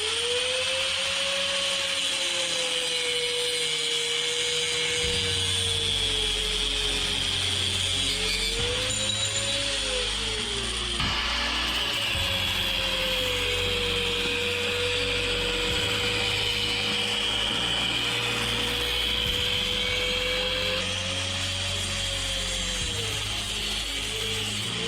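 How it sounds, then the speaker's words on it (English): A power grinder cuts the brake and axle mount tabs off a Doodlebug minibike frame. A loud, continuous metallic whine rises and falls in pitch as the tool bites into the steel, with a low motor hum underneath throughout. "Got the mounts all ground off there."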